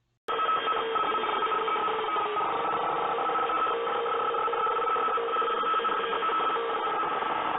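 Loud, continuous radio static from Mangle in Five Nights at Freddy's, cutting in abruptly and holding steady as a harsh, band-limited hiss with faint tonal buzz throughout; no voices.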